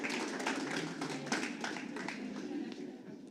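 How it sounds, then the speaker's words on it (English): Conference audience clapping for a panel discussion at a morning session, a modest, uneven round of applause with distinct individual claps, fairly quiet and thinning out over a few seconds. "give it another round of applause for that panel"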